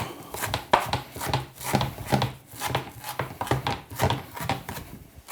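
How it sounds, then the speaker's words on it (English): A knife chops fresh coriander rapidly on a cutting board, a run of quick, close taps in uneven bursts, with no voices. "Chopping your coriander really just releases all those flavors."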